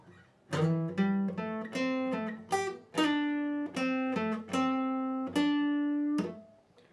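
A clean guitar plays the first part of a song's intro at full tempo: a string of plucked notes and short phrases with clear sustain, close and moderately loud, with no talking.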